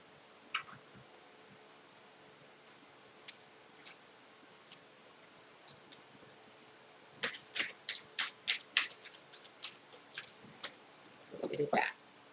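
Tarot cards being shuffled at close range, a few soft isolated flicks followed by a dense burst of quick riffling snaps, with a low voice briefly audible near the end.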